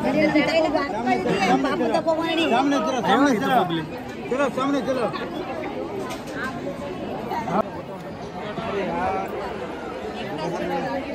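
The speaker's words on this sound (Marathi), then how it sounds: "दर्शन रांगेला गर्दी आहे." Pilgrims crowd the darshan queue at Mahalakshmi temple in Kolhapur, a dense, close murmur of many overlapping voices that carries on without a break throughout.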